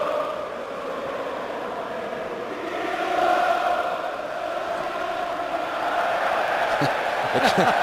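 Roar of a football stadium crowd reacting to Phil Neville's skill during Manchester United vs Southampton in the Premier League, a dense steady swell of many voices rising and falling, heard from a distance.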